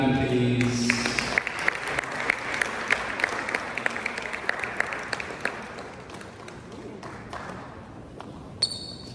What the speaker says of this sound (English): Keep clapping, please.